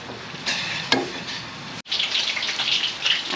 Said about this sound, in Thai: ลักษณะคั่วให้แห้งๆ ให้สุกๆ